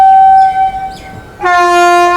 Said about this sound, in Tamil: 4வது பிளாட்ஃபார்ம்ல ஏதோ வண்டி அரைவாதுங்க.